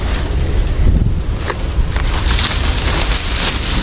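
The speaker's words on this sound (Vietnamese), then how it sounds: "Sáng nay trời gió mát quá." Steady wind rushes across a small fishing boat on open water, a loud, continuous buffeting roar with rumbling gusts and no voices.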